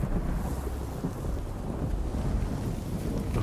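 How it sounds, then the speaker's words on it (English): A thunderstorm with steady rain and wind rumbles on a dark night in a video game, a dense low roar that holds unbroken for a few seconds without speech. "it's a dark and stormy night"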